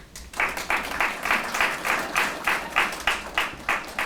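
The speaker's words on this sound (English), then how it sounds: "You're already clapping." An audience applauds at a student internship ceremony, a steady wash of many hands clapping in pulsing waves, fairly loud and close, with no talking over it.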